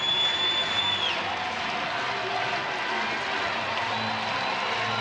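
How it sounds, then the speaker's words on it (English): Energetic baseball crowd at Kauffman Stadium during a Royals game against the Detroit Tigers, a steady wash of cheering and applause with scattered whoops, continuous throughout and filling the space. "In front of a very energetic crowd."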